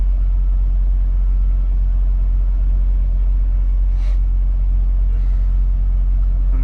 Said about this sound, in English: there's a car driving around here?